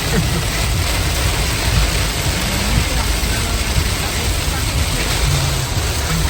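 Heavy rain drums steadily on a moving car during a family road trip, a dense, even wash of hiss and low road rumble with no breaks throughout.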